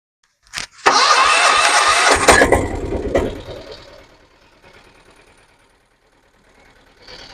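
A Piaggio Ape BS3 auto-rickshaw engine with a poor, uneven beat cranks and catches with a loud rattling roar for about two seconds, then quickly dies away to a faint low rumble.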